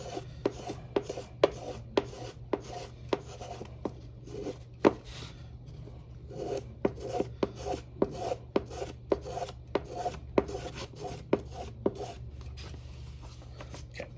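Hand carving of wooden back braces: a steady series of sharp, close scraping and shaving strokes in a repeating rhythm, with a short pause midway and a low constant hum underneath.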